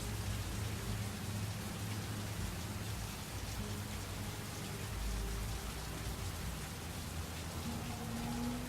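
Heavy rain pours steadily for the whole stretch, a dense and even hiss with a faint low rumble underneath and no voices.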